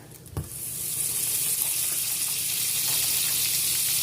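A stick of butter melting in a hot pan for a seafood dressing base, a soft, steady sizzle that rises after a brief clink and continues evenly, close and alone without speech.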